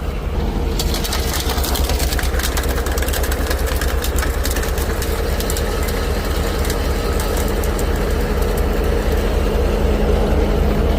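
An auger wood chipper mounted on a T-25 tractor shreds branches to the continuous loud rumble of the tractor engine, while dense crackling and snapping of splintering wood runs throughout.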